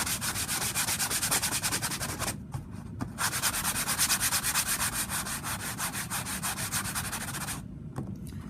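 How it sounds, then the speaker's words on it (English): Close, rhythmic sanding of hardened QuikRete mortar road surface on a model railroad layout, a rough scraping rub repeated in quick back-and-forth strokes with a couple of brief pauses. "So I've just been sanding it like so."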